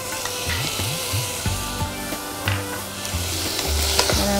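Onions and tomatoes fry in a pan for an Indian vada kari, a steady close sizzle with light scraping and stirring knocks scattered throughout.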